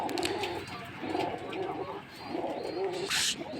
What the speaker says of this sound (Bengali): এই যে আমার হাতে আরেকটা কবুতর দেখতে পাচ্ছেন, এটা হচ্ছে নীলদমা, নীলদমা কবুতর